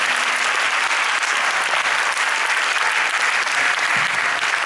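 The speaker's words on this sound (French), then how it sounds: "j'aimerais qu'une dernière fois on puisse les applaudir." Audience at a junior band concert in Grande-Synthe applauding the musicians, a loud, continuous, dense roar of clapping from a large crowd that holds steady throughout.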